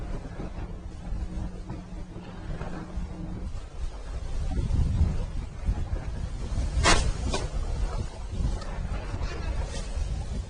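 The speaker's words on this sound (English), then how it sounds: "The wind had come up, making it very difficult for angling." Strong wind on Clear Lake buffets the microphone with a broad, rushing roar and low rumble that swells and gusts throughout, loud and close, with no voices.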